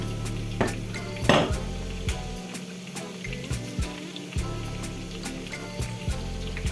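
Meat and chopped onion frying in a pan for pilaf, a soft steady sizzle with occasional scraping and clinks of a utensil stirring against the pan, one louder knock near the start.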